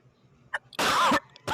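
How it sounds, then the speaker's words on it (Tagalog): Two harsh, loud coughs from one person, the first longer and the second cut off at the end, preceded by a short throat sound in an otherwise quiet room. "pasensya na kayo, inuubo talaga"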